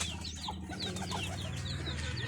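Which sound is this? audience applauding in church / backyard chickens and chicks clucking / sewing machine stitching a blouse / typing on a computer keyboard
backyard chickens and chicks clucking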